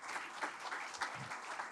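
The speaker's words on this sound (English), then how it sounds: "we will give a huge round of applause" Audience applause at a Sunday evening talk, a short burst of scattered hand clapping heard from a distance, soft and fairly even throughout.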